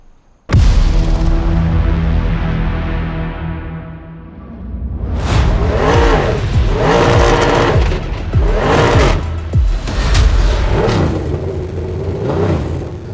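Cadillac Le Mans prototype race car fires up with a loud engine burst, settles into a steady idle, then revs hard in repeated rising-and-falling sweeps, close and powerful, with no talk over it.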